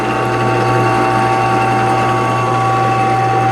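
Vevor 12-inch bench top drill press running at its slowest speed, about 810 RPM: a steady mechanical whir with a constant whining tone and faint gear rattle, close and unbroken, with no voices.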